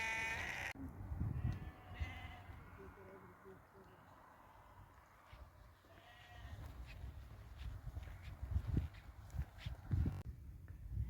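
Sheep just unloaded from a lorry bleat repeatedly in the distance, several animals calling over one another amid shuffling and bumping noises, with a voice speaking faintly at times.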